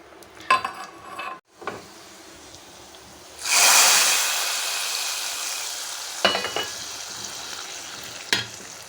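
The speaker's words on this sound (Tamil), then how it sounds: "இப்போ இதில் முந்திரி திராட்சையை போட்டு வறுத்துக்கலாம்" Cashews and raisins drop into hot ghee with a sudden loud sizzle that slowly fades to a steady fry, after a few earlier pan clatters and followed by more utensil clinks.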